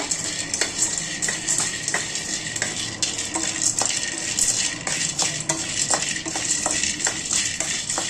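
Already-roasted packaged peanuts are tossed in a kadai over medium heat, with a spatula scraping and clinking against the metal in quick, irregular strokes over a soft sizzle, close and fairly loud, with no talking.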